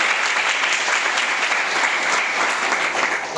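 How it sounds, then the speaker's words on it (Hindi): Loud, steady applause from an audience at a direct selling company gathering, a dense unbroken wash of clapping that holds at full strength throughout. "एक बार चाहेंगे कंपनी के लिए जोरदार ताली होनी चाहिए।"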